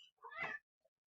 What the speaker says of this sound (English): I'm sure you can hear him meowing back there.